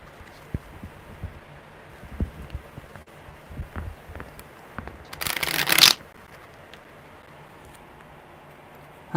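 A deck of tarot cards gets one brisk, loud riffle shuffle lasting under a second, set against quiet room noise with faint handling taps before it.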